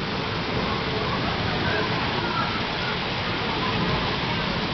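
Heavy rainwater rushes down a flooded street in Târgu Neamț during a thunderstorm, a loud, continuous broadband roar of flowing and splashing water close by, with no voices audible.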